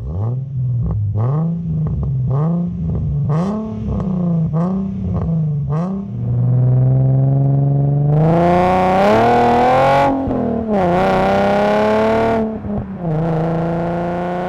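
A 2010 Nissan 370Z with a naturally aspirated 3.7-litre V6, manual gearbox and rear-wheel drive revs up and down through several quick blips, then pulls hard under sustained acceleration with rising engine pitch, loud and close.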